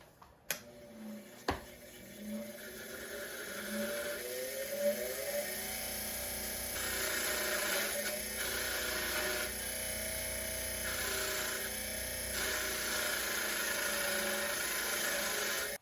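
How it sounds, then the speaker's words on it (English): A wire brush working over engine bolts during a Yamaha Venture 600 triple to 700 swap. Two sharp knocks come first, then a steady, whining mechanical scrubbing drones on with short pauses, fairly quiet and close. "These bolts I'm gonna hit with the wire brush there really quick."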